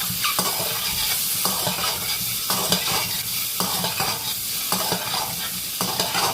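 Eggs and potatoes frying for egg biryani, a steady loud sizzle with regular scraping strokes of a spatula against the pan, close and continuous without talk.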